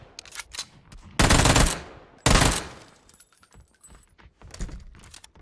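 Bursts of Uzi submachine gun fire in a battle royale video game, two loud sustained volleys separated by a short pause, with lighter clatter and scattered shots around them.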